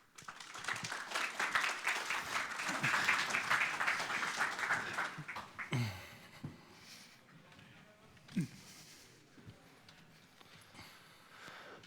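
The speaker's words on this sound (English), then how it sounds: "Give them a round of applause" Audience applause for a panel taking the stage at a Monopoly rules debate event in Finland: dense, loud clapping for about six seconds that tapers off, followed by quieter room noise with scattered small sounds.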